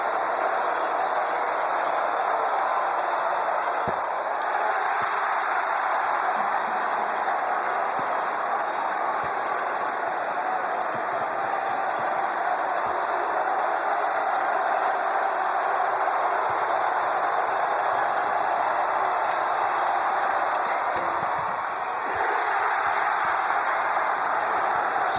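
Loud, sustained roar of a basketball arena crowd at an NC State Wolfpack home men's game against Abilene Christian, a dense, steady wall of cheering and applause that swells slightly and carries on for the whole stretch.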